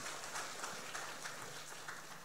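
A crowd applauds a guest at an evening panel discussion in Malaysia, giving a steady, even wash of clapping with no pauses, heard from some distance.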